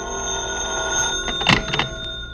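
A telephone bell rings in short bursts over a steady background hum, a radio-drama sound effect, moderately loud and near.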